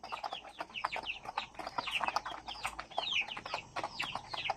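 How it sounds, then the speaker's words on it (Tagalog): Rhode Island Red chickens, heritage farm birds, clucking and chattering busily as they are fed, many overlapping calls at moderate distance, fairly quiet overall with no talking. "Pinapatakain na natin ng mga feeds ang ating mga alagang manok."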